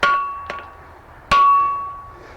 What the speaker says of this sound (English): now we'll put the flatter on and give it a good whack